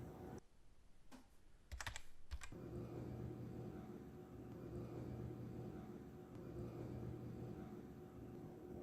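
Keys clatter in a few quick bursts on a computer keyboard, then give way to a steady low hum and background rumble that lasts to the end.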